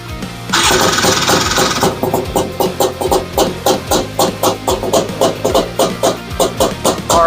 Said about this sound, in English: Gonna start this up, we're gonna rev it up, we're gonna make sure our clutches are opening and closing.